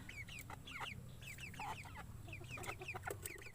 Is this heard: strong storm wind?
no